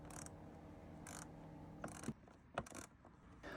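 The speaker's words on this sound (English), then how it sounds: "I use my 1/4 inch ratchet with an extension bar again" A 1/4 inch ratchet with an extension bar works a bolt loose on a Polaris Sportsman ATV while replacing the drive belt, giving a few faint, sparse clicking bursts and metallic ticks.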